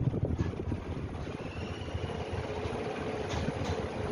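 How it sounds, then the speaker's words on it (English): A 1980s GEC Goldline 1200mm ceiling fan runs steadily at around 330 to 340 RPM, giving a continuous low, airy whoosh and drone with no distinct knocks or bearing noise. "The performance is good for its age. And the fan is running perfectly silent."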